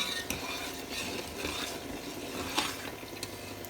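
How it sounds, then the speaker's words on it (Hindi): Oil goes into freshly made sugar syrup for zarda sweet rice, giving a steady stirring, sizzling texture with faint metal clinks of a pot and spoon throughout, close and moderately loud with no talking. "अब मैं इसके अंदर ऑयल डालने लगी हूँ"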